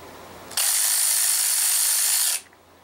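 Earthquake XT 3/8 cordless ratchet running in one loud, steady high-pitched whir for about two seconds, starting abruptly and then winding down, close up with no talking.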